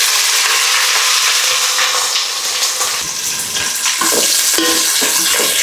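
Sliced onions frying in a pan, a steady loud sizzle and crackle of hot oil with occasional stirring scrapes, continuous and close throughout.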